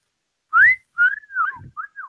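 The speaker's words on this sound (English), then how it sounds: "let me whistle to you" A person whistles a short melodic tune at a party, several bright rising and falling notes in quick phrases, close and clear with no talking.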